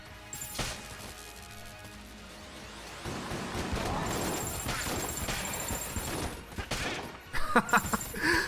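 Enemy gunfire from an AK bulletkin in the video game Enter the Gungeon, a dense burst of rapid shots and crashing impacts that starts suddenly and continues over game effects, loud and sustained.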